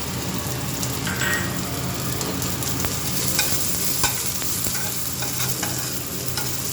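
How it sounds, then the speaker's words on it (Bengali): Onions fry in a hot pan for an eggplant bharta, a steady sizzle with scraping stirs and a few sharp utensil taps, close and continuous with no talking. "পেঁয়াজ দিয়ে দেবো"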